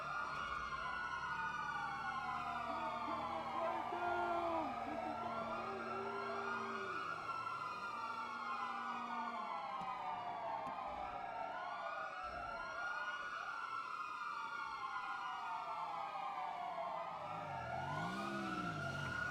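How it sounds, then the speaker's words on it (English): Several police sirens in the GTA video game wail continuously with overlapping rising and falling tones, loud and steady, alongside a low engine rumble. "I think those sirens probably say enough."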